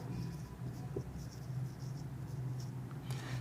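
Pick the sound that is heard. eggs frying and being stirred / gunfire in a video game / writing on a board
writing on a board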